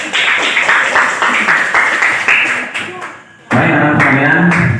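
A classroom of students claps their hands together, a dense, continuous patter of many hands nearby that briefly thins out and then surges back at full strength.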